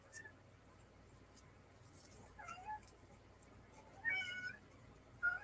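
A cat meows indoors in a few separate calls, the clearest near the end, moderately close over a quiet background.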